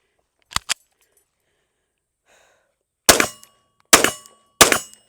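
Five sharp 9mm pistol shots from a Prodigy 4 1/4 ring out loud and close, a quick pair followed by three evenly spaced reports, with a faint metallic sound between them.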